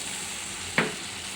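Egg noodles tossed with soy, tomato and chilli sauce in a pan give a steady low sizzle, broken once by a single short scrape of the stirring utensil.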